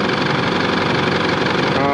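A diesel Isuzu Alterra with a 4JJ1 engine idles in a steady, loud, throbbing rumble, while a person talks over it.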